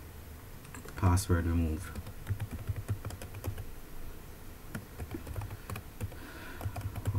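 A person types a file name on a computer keyboard while saving a file on an Apple A1466 laptop, a quick burst of close clicky keystrokes followed by sparse taps, with someone speaking over it.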